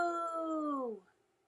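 A dog lets out a single sustained howl, close and fairly loud, holding steady for about a second before sliding downward in pitch and fading out.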